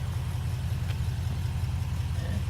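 A Holden VF SSV Redline Walkinshaw idles with a steady, deep, low rumble, even and continuous at moderate volume with no revving.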